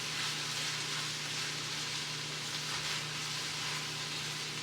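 Chicken stir fry sizzles steadily in a pan, a dense, even hiss of frying with no pauses and no voices, holding at a constant moderate level throughout.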